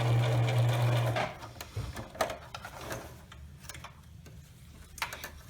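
A sewing machine stitches briefly for just over a second on an eyeglasses pouch, then halts, leaving scattered clicks and light handling taps.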